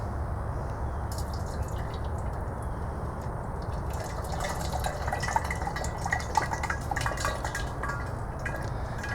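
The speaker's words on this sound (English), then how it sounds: "let's pour some of this Rust-Oleum in here" Rust-Oleum paint poured into a tire, heard as a continuous wet trickling and dripping with a faint steady background, close and moderately loud throughout.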